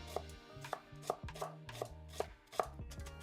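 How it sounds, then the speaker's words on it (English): A knife strikes a cutting board in a steady series of sharp chops, about two per second, chopping vegetables such as tomatoes, onion and jalapeno for pico de gallo, close and clear with quiet gaps between. "I'm gonna start chopping away"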